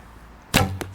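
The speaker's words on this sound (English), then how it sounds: "don't shoot more than 3 arrows at a time." An arrow leaves a Hermit X8 hunting recurve bow with a sharp, loud snap, followed a quarter second later by a second crisp thud as it strikes the target, with no talking.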